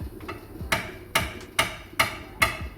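Chisel hammered into the front wheel hub of a 2010 Nissan Qashqai to spread it during wheel bearing replacement: five sharp metallic strikes at a steady rhythm, close and loud, with ringing decay between blows and no talk.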